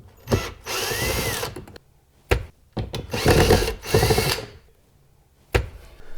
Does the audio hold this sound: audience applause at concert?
no